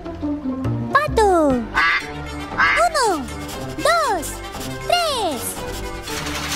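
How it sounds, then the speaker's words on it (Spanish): Several loud duck quacks repeat at a steady pace, close and clear, over a light musical background. "Pato."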